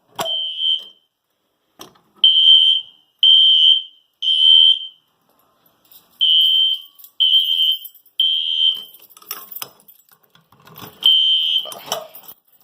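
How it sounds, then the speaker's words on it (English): An MS6 pull station sets off a fire alarm system: a loud, shrill electronic horn tone repeating in short, even bursts with brief gaps, continuing for several seconds without speech. "we are going to activate the system by pulling the MS6"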